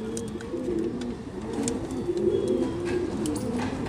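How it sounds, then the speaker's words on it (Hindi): A Kalsira high-flyer pigeon from the Jaipur–Tonk area coos close by in repeated low, throaty rolling phrases, almost continuous against a light background hiss. "बहुत ही अच्छा कबूतर है ये"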